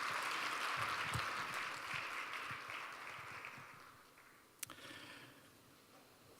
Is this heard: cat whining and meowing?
no